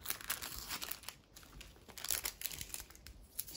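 Crinkly plastic packaging of a clay bubble face mask is handled and opened up close. It makes quiet, irregular crackles and rustles with no voice over them.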